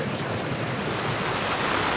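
Heavy rain pounding a campsite tarp on a remote Arctic river trip, a loud, dense, steady roar with wind buffeting the microphone and no voices.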